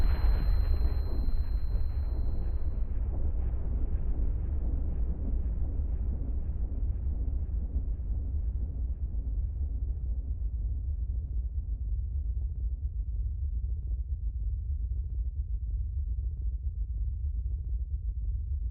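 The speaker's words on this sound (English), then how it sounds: "Setting off the nuclear bomb will have sirens sound all around." A nuclear bomb explodes in Minecraft with the Alex's Caves mod: a deep rumble rolls on and slowly fades, a long low roar dying away over many seconds with no voices.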